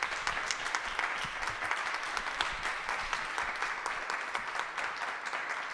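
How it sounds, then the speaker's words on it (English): Steady applause from a crowd for a panel discussion, dense clapping that holds at an even level for several seconds without pause. "Can we just give another round of applause for our panelists?"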